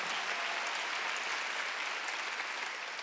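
Steady applause from a church congregation during a Sunday service, a continuous dense patter of many hands clapping at moderate volume with no voices over it.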